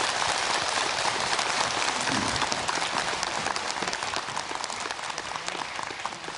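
An audience applauds to welcome a professor giving a lecture on happiness, with dense clapping that starts loud and full and gradually thins and softens toward the end.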